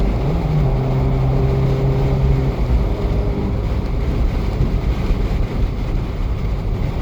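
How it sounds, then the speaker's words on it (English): An Abarth 595 with a Record Monza exhaust drones loudly and close, mixed with buffeting wind; a low engine tone sounds at the start and fades out. "That Abarth makes all kinds of good exhaust, but I really like the Record Monza the most."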